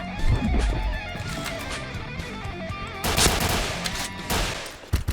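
Rapid automatic gunfire in the shooter game Point Blank crackles in steady bursts, growing louder and denser partway through, over background game sounds.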